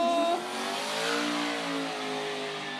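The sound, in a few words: car engine revving during a burnout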